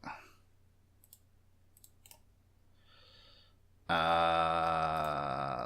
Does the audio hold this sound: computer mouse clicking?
yes